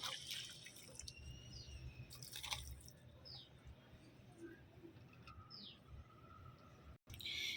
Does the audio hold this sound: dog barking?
no